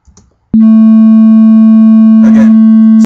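After a brief faint noise, a steady 221 Hz sine test tone plays loud and unbroken for about two and a half seconds, with a short burst of other sound over it near the end.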